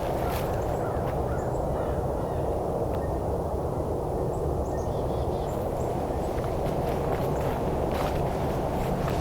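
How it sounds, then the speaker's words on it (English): Crow cawing outdoors during a winter Christmas bird count, the calls faint and scattered against a steady roar of distant highway traffic. "Crow."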